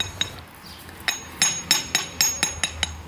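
A hammer drives natural paving stones into sand with a series of sharp, close, clinking blows in an irregular rhythm, about nine strikes with no talking.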